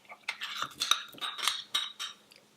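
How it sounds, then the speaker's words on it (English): A utensil clinks against a pot while tomatoes and cilantro are stirred into hot rice noodles on a switched-off stove, a string of soft, irregular scrapes and taps close by. "Now we're ready to stir things together."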